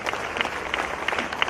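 Applause from an audience at a private school event in Madurai, a dense steady patter of many hands clapping throughout with no pauses.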